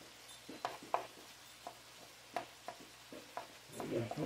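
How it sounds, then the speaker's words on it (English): Crumbled sausage sizzling softly in a pan as a utensil breaks it apart, with about a dozen separate scraping knocks and a louder stirring burst at the end. "Just keep breaking the pieces up, sausage up as you get to them"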